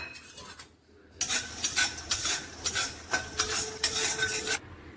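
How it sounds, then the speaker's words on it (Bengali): Peanuts and vegetables are fried in a pan, a short pause followed by rapid, rhythmic scraping and rattling of a spoon against the pan over a light sizzle, close and fairly loud, then stopping. "এবার আমি একটু ভেজে নিই।"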